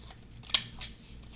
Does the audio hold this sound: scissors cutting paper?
yes